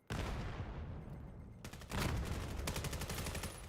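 Gunfire in the VR shooter Vail during a competitive match, a sharp initial shot followed by a decaying tail, then rapid bursts of automatic fire crackling close and loud, with no voices over it.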